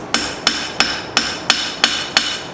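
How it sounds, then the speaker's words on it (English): Light hammer taps on hot steel resting on an anvil while forging a knife from an old file, seven crisp ringing strikes at an even, bouncing rhythm, close and alone. "I'm pretty much just letting the hammer bounce off the anvil, its own weight."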